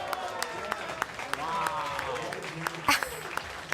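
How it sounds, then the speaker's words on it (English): Sparse, scattered clapping from an audience at a chess tournament final in Toronto, irregular claps spread across the clip with voices talking over them. "A big round of applause coming in for Wesley So with that finish."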